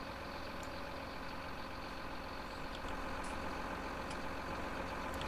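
A farm machine's engine idles steadily in Farming Simulator 19, a continuous low droning rumble that holds even throughout, alone with no talk.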